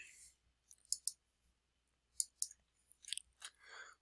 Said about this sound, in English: By clicking header again